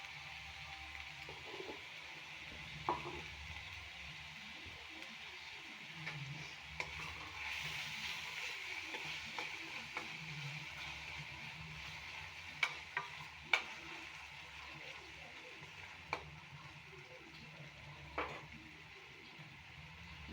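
Sliced onions with salt fry in a pan, a soft continuous sizzle under occasional scraping stirs and light clicks of a utensil against the pan, quiet and close with no talking.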